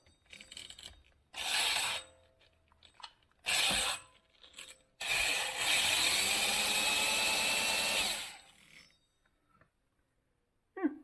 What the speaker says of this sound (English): Let's give it a try on the drill.